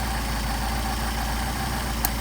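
A Mercedes-Benz 190SL engine idles steadily after a carburetor adjustment, a continuous low mechanical rumble with a faint click near the end and no voices.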